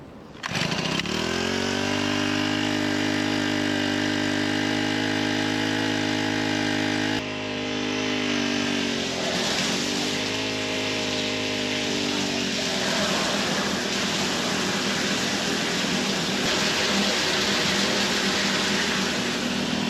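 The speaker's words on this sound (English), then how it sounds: "Get the transfer pump fired up." A gas-engine transfer pump starts up to move maple sap, first a steady droning motor, then rougher and noisier as it draws liquid, running continuously and loud nearby with no voices.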